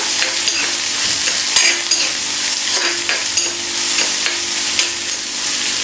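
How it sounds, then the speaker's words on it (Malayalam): Semolina dosa uppumavu stirred in a hot pan with ginger, a steady close sizzle of frying under continuous scraping and stirring strokes, no talking. "ഇതൊന്ന് സോഫ്റ്റ് ആണ് വരെ നമുക്കൊന്ന് ഇളക്കി കൊടുക്കാം"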